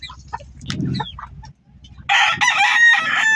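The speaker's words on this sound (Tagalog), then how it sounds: "may isang manok na dito" A rooster crows loudly and close by, preceded by a few soft clucks and low rumbling background noise.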